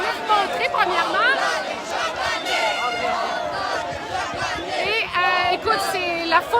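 Dense outdoor protest crowd at a street demonstration in Quebec, with shouting, chanting and overlapping chatter from many voices forming a loud, close, continuous roar.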